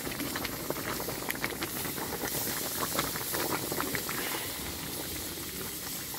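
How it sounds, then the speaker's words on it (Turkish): Thick dried fig jam bubbles at a steady, vigorous boil in a pot, a dense continuous patter of popping bubbles and soft hiss, close and even throughout. "Kaynadı her ikisi de, hem de fokur fokur"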